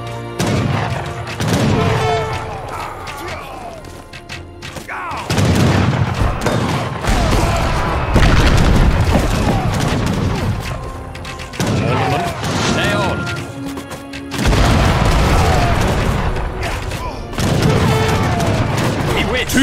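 Heavy bombard cannon fire in the Age of Empires III: Definitive Edition campaign, with repeated booming blasts and rumbling impacts amid dense battle noise, continuing loud across the whole stretch with voices heard at times.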